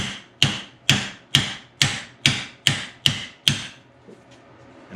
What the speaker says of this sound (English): we'll knock the bushings out